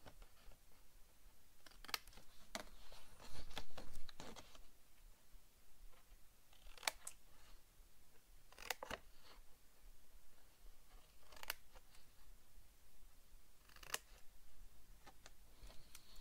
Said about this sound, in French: Je n'ai plus qu'à couper au ciseau pour faire des petites languettes.